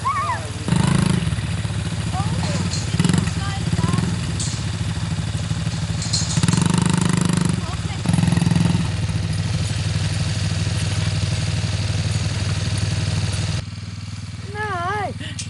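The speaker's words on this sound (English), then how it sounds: "Dad and Forbes are on motorcycles." Motorcycle engines idle and rev in bursts on an Australian farm while riders round up sheep, the motors rising and falling at medium distance with clattering, and a voice speaks at moments.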